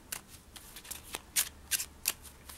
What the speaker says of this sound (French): Je vais pouvoir encore une fois mélanger.